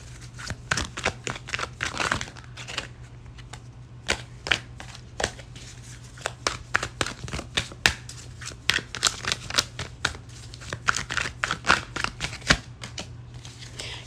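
Tarot cards being shuffled by hand: a steady stream of close, sharp papery clicks and slaps, irregular but continuous, with faint crinkling between the louder flicks.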